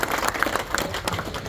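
A crowd at a police lines farewell function in Bhagalpur claps briefly, a dense patter of applause at moderate distance.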